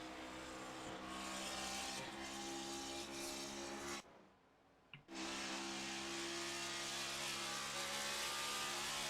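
Race cars in the iRacing video game during a Next Gen Cup Series race at Charlotte, a continuous loud engine roar with tire noise after a crash, briefly dropping out midway before resuming.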